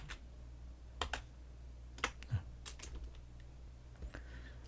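Computer keyboard keys click quietly in a few sparse, scattered presses, some in quick pairs, during video editing in DaVinci Resolve 16.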